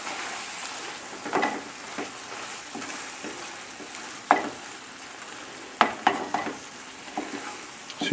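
A salmon and spinach mixture is stirred in a pan over a gentle sizzle, with scraping spoon strokes and occasional sharp clinks against the pan, close and fairly quiet.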